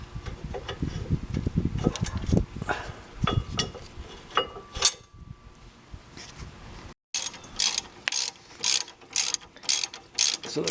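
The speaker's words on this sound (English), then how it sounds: "So the caliper bracket is now tightening" A ratchet clicks in quick bursts while tightening the brake caliper bracket bolt on a 2012 Fiat 500's front brakes, close and crisp, with irregular spurts of rapid pawl clicking separated by short pauses after earlier softer metallic handling.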